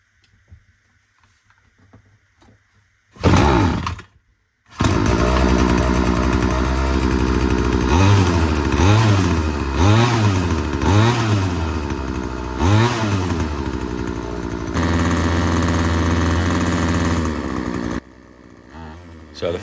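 A Ryobi 2-stroke petrol strimmer takes a few pulls before its small engine catches. It then runs loud and close, revving up and down repeatedly in rising and falling buzzes before settling and cutting off.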